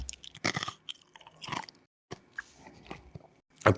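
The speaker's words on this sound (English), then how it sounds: "Y'all want to hear me chew on an ice cube?" Someone chews an ice cube close to the mic, giving sharp crunching bites in irregular bursts separated by brief pauses, with no speech.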